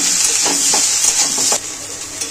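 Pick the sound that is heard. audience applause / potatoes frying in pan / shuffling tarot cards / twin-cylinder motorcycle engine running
potatoes frying in pan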